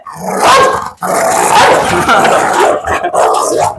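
A pit bull about one year old barks and growls loudly and close, in rapid bursts with a short break near the start, a voice briefly audible amid the aggressive noise.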